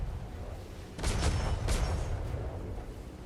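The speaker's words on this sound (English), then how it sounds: "You should have shots here in a moment." Ship cannons firing in a Royal Navy roleplay video game, a rumbling volley of several muffled booms in quick succession that swell and then fade into a low lingering roar.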